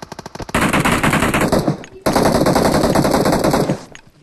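Automatic gunfire in PUBG Mobile comes in two long, loud, rapid bursts with a short gap between them, and a brief faint shot opens the sequence.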